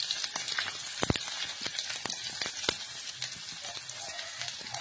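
Finely chopped onions sizzle and crackle in hot oil for a home-cooked yogurt chicken dish, a steady soft frying hiss with frequent small pops and spatters, close and fairly quiet.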